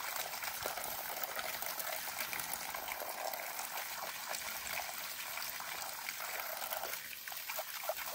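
Running water splashes and trickles steadily as items for tea-making are washed outdoors at an old Nagano farmhouse. The water sounds close and constant, with some brief clatter near the end and no talking.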